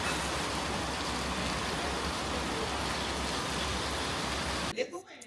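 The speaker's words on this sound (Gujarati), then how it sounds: "જો વરસાદ જોવો તમે, બહાર જોવો વરસાદ, એટલું મસ્ત વાતાવરણ છે વરસાદનું." Steady monsoon evening rain falling outside, a soft continuous hiss heard from indoors that cuts off abruptly near the end.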